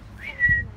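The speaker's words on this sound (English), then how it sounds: "Whistle again, see if it'll come out" A person whistles once to coax a lemur out at a park, a short rising then steady tone lasting under a second, close and fairly clear over low background rumble.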